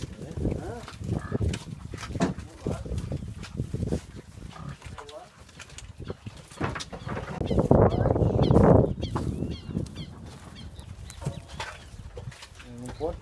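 Pigs on a small farm being fed for Christmas, grunting and snorting in bursts with a louder squealing stretch midway, mixed with scattered bird calls while people talk.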